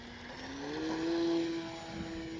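E-flite 1100mm T-28 Trojan RC plane with its electric propeller spooling up under throttle, a rising whine that swells and then holds steady, with wind noise around.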